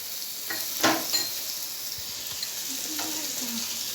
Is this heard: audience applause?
no